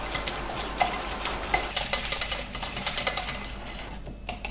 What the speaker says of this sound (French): je vais fouetter le tout pendant quelques minutes, le temps que je puisse faire blanchir mon appareil